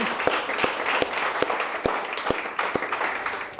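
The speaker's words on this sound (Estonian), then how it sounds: "Aga teeme õiele suure aplausi." An audience claps for Õie Pritson at a dinner evening, the claps sparse, sharp and evenly spaced in a steady rhythm rather than a dense ovation.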